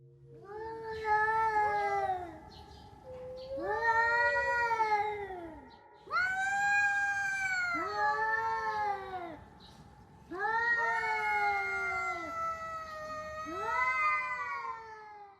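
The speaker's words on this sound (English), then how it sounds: "We'll start off with one many of you have probably heard at one point or another, a domestic cat." A domestic cat caterwauls in long, wavering, drawn-out yowls, repeated several times with brief pauses, close and clear with no talking.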